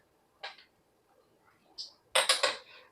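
A lid is set on a pot of pohe, with a couple of isolated metallic clinks followed by a louder cluster of rattling clatters as it settles.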